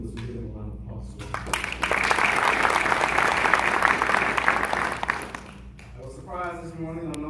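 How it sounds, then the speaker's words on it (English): An audience bursts into applause at a police chiefs' ceremony in Oakland County, with a dense round of clapping that swells, holds for several seconds and fades, framed by a speaker's voice before and after. "I give you a little bit of applause."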